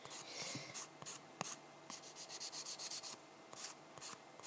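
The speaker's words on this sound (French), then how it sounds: "Donc j'ai pris un lime fin, enfin une lime fin." A fine-grit nail file filing off semi-permanent nail polish, with quick, close, scratchy back-and-forth strokes in short bursts and a run of rhythmic strokes in the middle.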